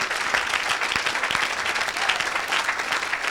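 A church congregation applauds and cheers during a Sunday worship service, dense steady clapping close and loud throughout with a few voices calling out beneath.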